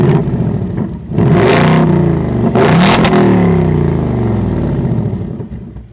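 A sports car's exhaust set to racetrack mode, revved hard twice in a row, each blip a loud, raspy surge that falls back to a rumbling idle between and after, close by and alone.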